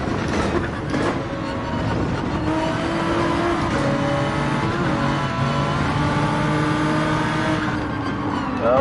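Simulated race car engine in Gran Turismo 7 at Interlagos, a Nissan Skyline revving steadily and loud with sustained harmonic drone, no talk over it.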